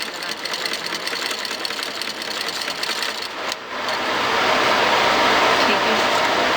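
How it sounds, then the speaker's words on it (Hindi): A sewing machine runs steadily while stitching a neck design, its rapid whirring hum continuing throughout, briefly dipping and then surging louder and faster near the end. "ऐसे हमने सारी की सारी सिलाई लगाते जाना, सिलाई लगाते जाना"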